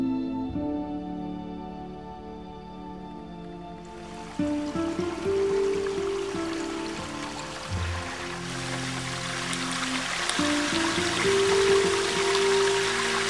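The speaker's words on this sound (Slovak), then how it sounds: "Brankovský vodopád padá zo zvislej kurudskej skaly do hĺbky 55 metrov." The Brankov waterfall in the Low Tatras drops 55 metres from a vertical rock face, a steady rushing roar that swells into a broad hiss partway through, layered under a sustained musical backing.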